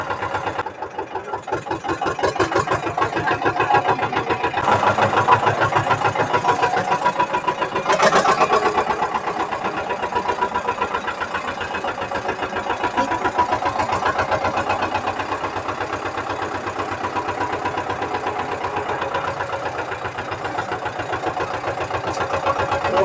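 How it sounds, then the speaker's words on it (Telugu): An Eicher 312 tractor engine runs steadily during an early morning ride, with a loud, continuous low throb and a dense rhythmic chug that holds for the whole stretch, with no talk over it. "మన ట్రాక్టర్ ఫుల్ సౌండ్ చేసుకుంటూ పోతుంది"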